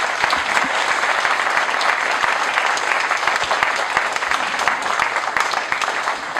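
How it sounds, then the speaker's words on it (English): Steady, dense applause from a large crowd, loud and sustained with sharp individual claps throughout and no break. "One more time, if we could give Miss Maria Kimmy a big round of applause."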